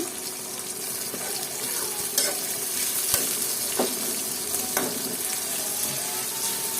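Onions softening in hot oil with a little salt, the base for a dried fish curry, sizzle steadily up close, with occasional scraping stirs and clinks of the spoon against the pan.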